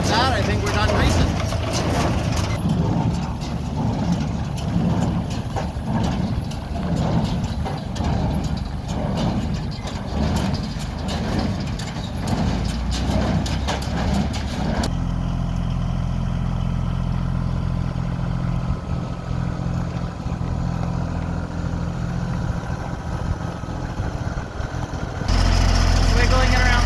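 A 2025 Bobcat drives a New Holland 268 small square baler, a loud steady engine drone with a rhythmic mechanical thumping from the baler's plunger that cuts out partway, leaving the engine running alone.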